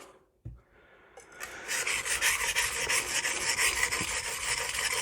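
Magnacut steel 8-inch chef's knife rasping across a coarse Norton Crystolon stone in quick repeated strokes, close and steady after a brief quiet start.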